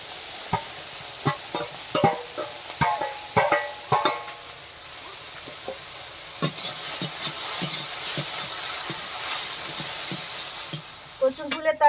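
Shrimp go into a hot pan with turmeric and fry with a steady sizzle while a utensil scrapes and clinks against the pan in repeated stirring strokes, close and moderately loud.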